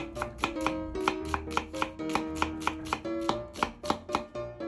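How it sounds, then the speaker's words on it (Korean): Steady, brisk knife chops slicing an onion on a cutting board, about a dozen even strikes in quick rhythm, close and clear with no talking. "양파를 채 썰어 주세요."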